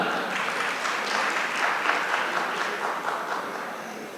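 An audience at a hijama medicine programme in Karachi greets the speaker with warm applause: sustained, even clapping of moderate loudness that gradually fades over about four seconds.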